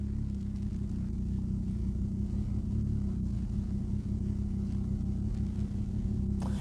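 A noisy fossil-fuel car drives close behind, its steady low engine rumble droning on without a break and drowning out almost everything else.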